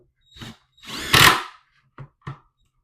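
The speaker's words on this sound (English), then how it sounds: "the power tool with an actual Allen head is what you're going to need" A power tool drives an Allen head screw while a Lego Star Wars display is being fitted with lights: a short whir, then a longer revving burst, then two quick blips, loud and close with silence between.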